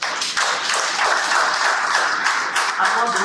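An audience clapping steadily and densely after a formal address, the applause filling the room at a strong, even level with a slight lift partway through.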